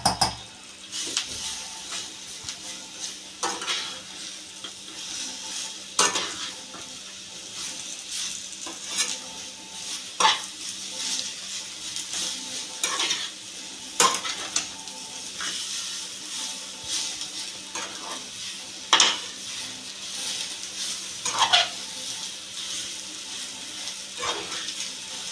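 Dates softening in ghee in a kadhai over medium heat, a steady low sizzle broken by repeated sharp scrapes and clinks of a spoon stirring against the pan, close and without talk.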